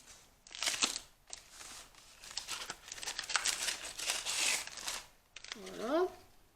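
A packet of Petit Beurre biscuits being opened, with bursts of crinkling plastic wrapper and rustling handling, separated by short pauses.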